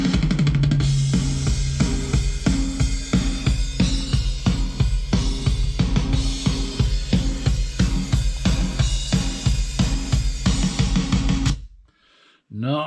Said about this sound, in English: together all the drum sounds sound like this